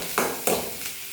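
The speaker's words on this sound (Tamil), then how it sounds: "பூண்டு வெங்காயம் எல்லாம் போட்டு நம்ம நல்லா வதக்கிக்கலாம்." Garlic and onion sautéing in a pan while cooking a Tamil-style spinach poriyal, with two or three sharp stirring scrapes over a steady soft sizzle.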